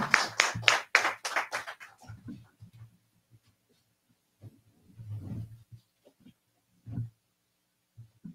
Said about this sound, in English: Mama Faloke, give her a round of applause.